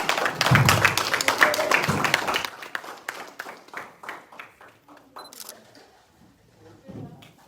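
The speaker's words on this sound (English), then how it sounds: "Clap it up," A crowd claps at a gathering in a club, loud and dense at first, then thinning into scattered individual claps that fade out, with voices speaking over it.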